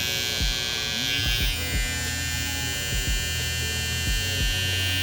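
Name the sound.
Babyliss FX One blue hair trimmer running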